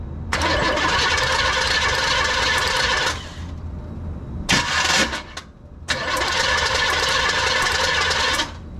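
Starter cranking the engine of a 1971 Chevelle that sat unused for about twenty years, powered by a jump pack: three loud, rough cranking bursts separated by brief pauses, heard close with no talk.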